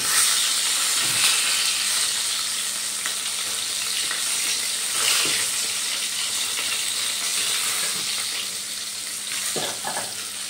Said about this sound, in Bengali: মাছগুলো একটু উল্টে পাল্টে ভেজে নেবো।